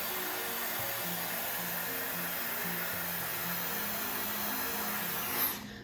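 A small Dyson hair dryer runs on high heat and high power, making a loud, steady blowing roar close to the microphone with no talk over it. The roar lasts about six seconds and then cuts off abruptly.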